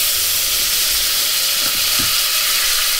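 Sixty grams of butter sizzles and hisses loudly in a hot pan, a steady bright frying crackle with a few low knocks, before flour is stirred in for a roux.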